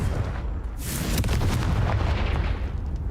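A Confringo fire spell blasts in a Hogwarts video game, one heavy booming burst with a rumbling, explosive tail over a dense low background, loud and close.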